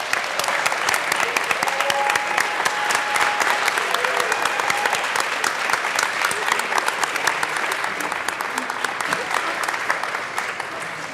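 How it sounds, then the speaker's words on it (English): Members of the Colorado House fill the legislative chamber with sustained applause, a thick, even wash of many hands clapping at steady volume for the whole stretch, with faint voices mixed in. "let's hear a round of applause"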